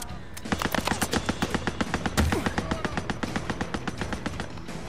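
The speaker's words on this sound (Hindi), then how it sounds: "तो मशीन गन लेके घूम रहा है कोई?" A steady, rapid stream of machine gun fire rattles on for several seconds in the video game Days Gone, evenly spaced shots at a fairly close distance, with a voice talking underneath.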